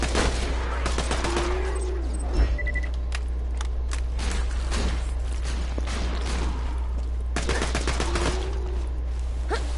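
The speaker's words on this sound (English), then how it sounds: "Because you needed to stop shooting?" Bursts of video game gunfire from Borderlands, a cluster of sharp shots early on and another volley near the end, set against a steady low game hum and some background game sounds.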